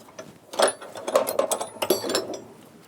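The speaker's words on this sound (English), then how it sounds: "A little chisel on there, it'll get under there easier." A small chisel prying up locking tabs during a David Brown 990 Selectamatic tractor differential repair, giving a series of close metallic scrapes and clicks in an irregular ratcheting rhythm.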